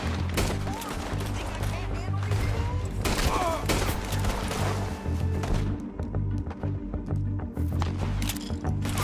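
Gunfire in Red Dead Redemption 2, a dense run of shots and blasts over steady game ambience and low rumble, with scattered voices in the mix.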